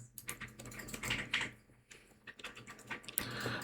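Rapid typing on a computer keyboard, close and fairly loud, with irregular bursts of key clicks running throughout and no voices.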